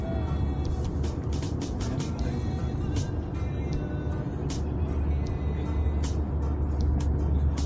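A manual car being driven in third gear during a driving lesson gives a steady low engine drone with road rumble, continuous and close throughout.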